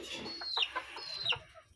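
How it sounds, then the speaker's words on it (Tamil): Chickens cluck softly at a short distance, a few brief, scattered clucks and chirps. "எல்லா கோழியுமே மேய்ச்சிட்டு இருக்கு"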